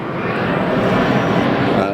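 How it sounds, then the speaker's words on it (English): A jet aircraft passes overhead as a loud, continuous broadband roar that fills the clip, heard from beside a 2008 Mercedes-Benz CLK 350 Convertible, with a person talking over it. "There's a jet, so it's going to be loud as hell"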